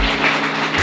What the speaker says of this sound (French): Les gens applaudissent normalement.